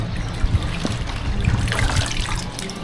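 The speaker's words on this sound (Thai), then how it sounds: "ล้างผักให้สะอาด" Vegetables are washed under running water in a dorm kitchen: a steady trickle and splash of tap water with small irregular sloshes and knocks, close and moderately loud.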